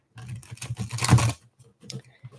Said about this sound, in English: I already shuffled, but I'm going to shuffle one more time.